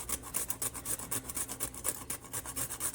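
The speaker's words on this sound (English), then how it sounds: "I'm going to be grating in some nutmeg." Whole nutmeg being grated for a breadcrumb and parsley mixture, a close, steady rasping in quick regular strokes, about three per second, with no voices.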